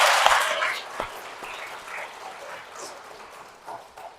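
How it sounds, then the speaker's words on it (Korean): A church congregation applauds at a parish gathering, a soft, diffuse patter of clapping that rises briefly at the start and then thins into a scattered, fading rustle with no talking over it. "저는 이 시대의 남성들을 위해서 박수 한번 쳐주고 싶은데 여러분 쳐주고 싶어요?"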